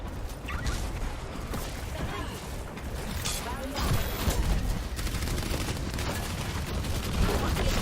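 Heavy, continuous gunfire from Orisa, a hero in an Overwatch-style shooter, rattling steadily for several seconds amid dense game noise and combat effects, with no break in the stream of shots.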